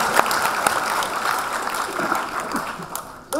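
Audience clapping at an award gala culture program, a dense steady wash of applause from a crowd with a few sharper claps standing out, running throughout and dipping briefly near the end.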